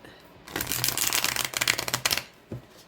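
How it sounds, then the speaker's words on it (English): A new Albano-Waite tarot deck with matte cardstock is shuffled by hand, quick riffling bursts and soft card slaps repeating close up over a few seconds. "I'm gonna shuffle it a few times this way because it's kind of bowed a little bit"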